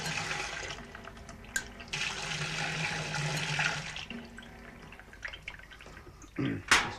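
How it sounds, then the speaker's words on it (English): Water gushing out of a washing machine's pressure switch tube as the pressure is released, a hissing, splashing flow that surges and fades, with a brief louder gurgle near the end. "So if I release the pressure, the water will start coming out"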